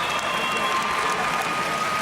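Steady crowd applause with some cheering at a Golden Gloves amateur boxing show after a round, a dense even clatter of clapping filling the hall.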